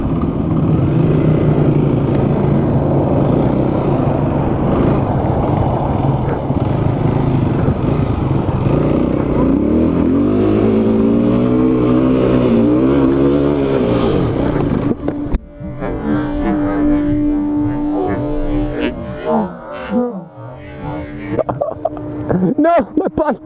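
A motorcycle engine drones loudly and steadily at speed, its pitch rising and shifting through a revving stretch before cutting out abruptly, with a rider talking over the engine noise.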